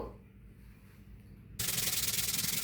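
A kadai (wok) being scrubbed clean with scrubber pieces gives a quiet, soft rubbing, then switches to louder, rapid, rhythmic back-and-forth scouring strokes close by.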